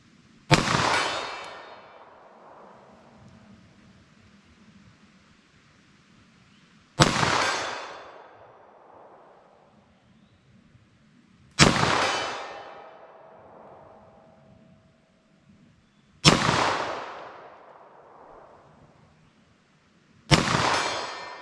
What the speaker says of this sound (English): Standard pressure 9mm out of this pistol is usually pretty darn accurate. So let's see what I can get with this from 75 yards.